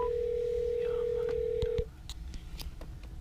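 A phone dials out through the factory Bluetooth in a Corvette C5: a steady dial tone holds for nearly two seconds, then a quick run of short keypad tones follows, close and clear.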